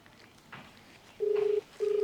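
A phone call rings on the line, two short ringback tones sounding in succession after a moment of quiet background noise.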